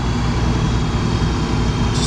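A Land Rover Defender 90 with a Stage 3 4.6 V8 gently accelerating from dual-carriageway speed, heard from inside as a steady, dense low engine and road drone that stays even throughout.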